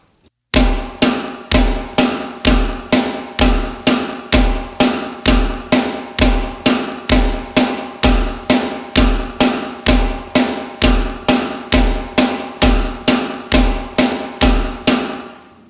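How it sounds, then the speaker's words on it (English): Steady eighth notes played on a drum, roughly twenty-eight even, close, loud strokes at twice the pace of quarter notes, each with a short ringing tail and no talking. "So eighth notes sound like this and are counted like this."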